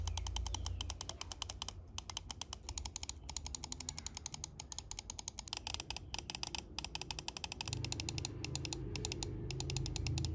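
Side buttons on an Ajazz AJ159 Apex mouse click steadily and quickly in rapid bursts, each press a crisp, close tick, with no voice over them.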